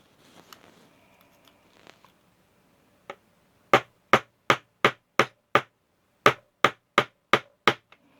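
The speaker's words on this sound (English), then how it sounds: "when you're hammering, try to hammer it as flat as you can as you're pushing the shaft through" Sharp, close metal-on-metal hammer taps drive a shaft into a Tamiya Mini 4WD MA chassis, coming in two quick rhythmic bursts of about six strikes each after a few light scattered knocks.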